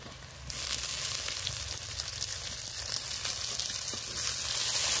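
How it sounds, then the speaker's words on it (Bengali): Chopped tomatoes tipped onto onion and garlic fried red in a pan set off a sudden close sizzle half a second in, which then hisses and crackles steadily and loudly. "দেখো আমার পেঁয়াজ আর রসুন কেমন লাল করে ভাজা হয়েছে। আমি এর মধ্যে দিয়ে দেবো কেটে রাখা টমেটো।"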